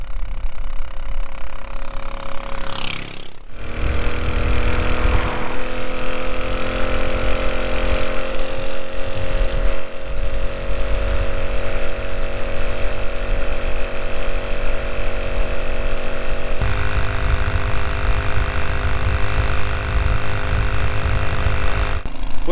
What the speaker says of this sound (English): I'm going to try and just ride around this little area of the island on the Solex